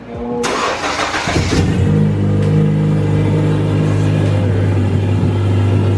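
A turbocharged 9th-generation car cranks and fires up, followed by a loud, close engine settling into a steady rumbling idle with a slight rev, with no speech over it.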